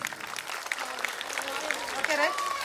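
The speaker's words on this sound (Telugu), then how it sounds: "ఒకసారి గట్టి క్లాప్స్ అండి." Audience clapping at a school annual day function, a steady wash of applause from a crowd that rises and falls over a few seconds, with a faint voice or whistle-like tones near the end.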